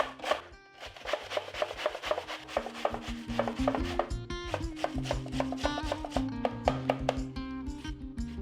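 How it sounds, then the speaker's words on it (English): Zucchini is grated on a metal box grater in a kitchen, with steady rhythmic rasping strokes repeating close and fairly loud throughout, with no talk. "Grate this zucchini using this box grater."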